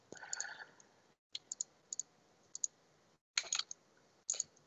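Computer mouse clicks while copying and pasting in Siemens TIA Portal software, quiet and close, coming singly and in quick double-click pairs separated by short silent gaps.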